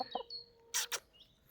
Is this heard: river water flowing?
no